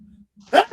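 A single short, sharp sneeze bursts out near the end after a faint low murmur and a brief pause, followed by a small trailing catch of breath.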